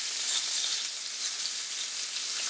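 A freshly flipped burger patty sizzles steadily in a hot pan, a soft, continuous crackling hiss with no talk over it.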